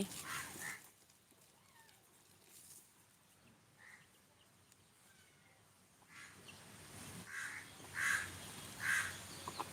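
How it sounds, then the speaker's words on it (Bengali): Quail call in short, bright chirps that grow louder near the end, over a low background murmur. "এই যে দেখতে পাচ্ছেন আমার কোয়েল পাখিগুলা এদেরকে একটু বালিতে দিয়েছি"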